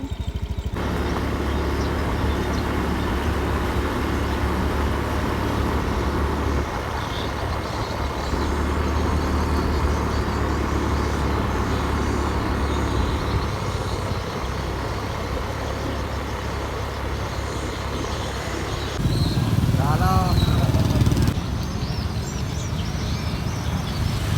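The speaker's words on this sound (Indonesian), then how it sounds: "Dan aku berangkat pakai motor legendaris ini guys." A continuous engine rumble with passing traffic noise, loud and close, shifting in tone as vehicles move along, with a brief louder surge near the end.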